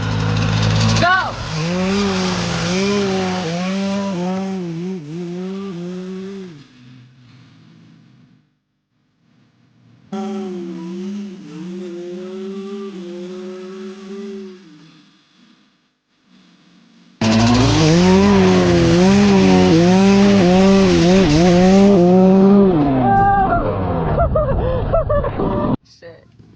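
Two dirt bikes drag racing, a 250 against a 110, one of them running a duct-tape-wrapped tire. Engines rev and rise in pitch through repeated gear changes, loud and close, with a lull between two bursts of full-throttle acceleration.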